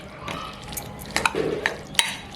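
Fried coriander being stirred into a chicken 65 mixture in a pan, with a few sharp spoon scrapes and clinks over soft, steady background noise.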